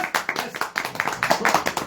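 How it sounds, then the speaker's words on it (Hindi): An audience claps briefly at a marketing talk, a short burst of rhythmic clapping with distinct, fairly close hand strikes, a few voices mixed in. "तालियां एक बार"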